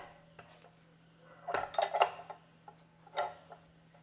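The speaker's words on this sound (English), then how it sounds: "I always like to take things off of the rack because things tend to slip off the rack" A utensil scrapes and clinks against the metal rack of a Ninja Foodi as baked bread stuffing is lifted off, with a few sharp close clatters in quick clusters and then a single later clink.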